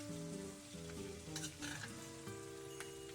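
A steak fries in a pan while being basted with butter, giving a steady close sizzle broken by short bursts of spooning and spattering.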